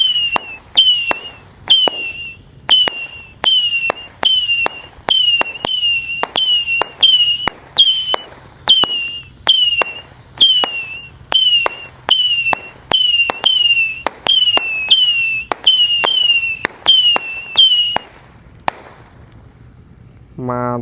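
A 25-shot box rocket firework fires a rapid run of about twenty sharp, loud launches with whistling trails in steady rhythm, then stops, leaving quiet outdoor background.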